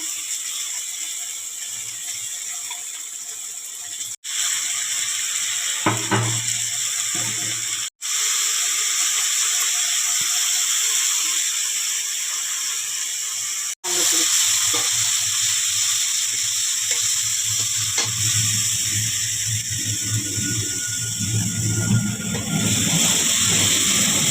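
Ginger, garlic and chilli paste frying in oil in a pan for a whole lote fish curry, giving a steady hiss and sizzle with scraping and clinking between short breaks, and no talking.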